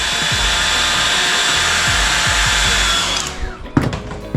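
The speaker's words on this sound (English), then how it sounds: "I'm just gonna take the hair dryer. I'm finna activate the 3M tape" A hair dryer runs loud and close with a steady whooshing whine while heating 3M adhesive tape for a Gold Wing motorcycle light install, then cuts off and leaves a few handling clicks.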